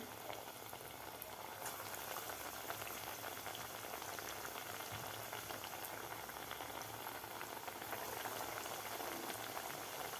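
Continuous soft bubbling and crackling of chana dal dough balls deep-frying in hot oil over medium heat, even and steady throughout, with no speech.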